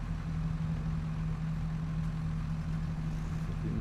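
A tractor engine idles with a steady, deep, throbbing hum that stays constant and close throughout, with no other sounds.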